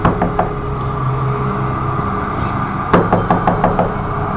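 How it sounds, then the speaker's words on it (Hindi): Soft knocking on a room door at night, a few light taps early on and then a quick series of raps, heard near and clear over a low steady hum. "तभी दरवाजे पर धीमी दस्तक हुई।"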